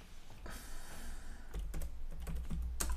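Quick keystrokes on a computer keyboard typing into a search bar, a close and clear burst of clattering taps with no talking.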